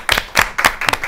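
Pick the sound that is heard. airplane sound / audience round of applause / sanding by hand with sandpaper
audience round of applause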